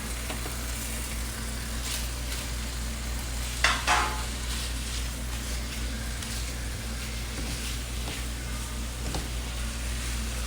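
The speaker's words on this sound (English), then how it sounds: "and cook our shrimp" Shrimp sizzle steadily in a pan as they cook for a seafood Alfredo, a constant soft frying hiss with a brief louder clatter of stirring partway through.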